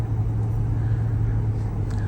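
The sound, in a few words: 2008 Ford F-350 truck driving at 40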